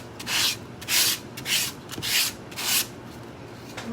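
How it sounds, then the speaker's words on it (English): Sanding a stippled texture medium surface by hand, five even rubbing strokes spaced about half a second apart, close and clear with no talking. "I will do the same exact thing I did on the other one, which is sand it a little bit."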